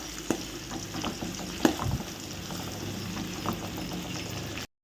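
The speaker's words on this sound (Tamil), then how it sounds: "நல்லா பொன்னிறமாக வர்ற வரைக்கும் நல்லா வதக்கி விடுங்க." Sliced onions, green chillies and curry leaves sautéing in hot oil, a steady low sizzle and frying crackle with occasional stirring scrapes, fairly quiet and without talk.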